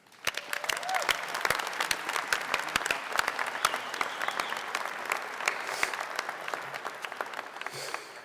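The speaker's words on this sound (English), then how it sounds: "let's go ahead and give them another round of applause" Sustained applause from a crowd at a commencement ceremony, dense sharp claps throughout, continuing steadily for several seconds before tapering slightly at the end.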